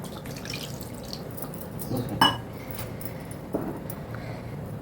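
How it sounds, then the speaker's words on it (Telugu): Water poured into a pot of Andhra-style korameenu fish curry, with light splashing and trickling against faint kitchen background noise and a couple of small clinks. "ఇంకో కొన్ని పోద్దాం నీళ్ళు"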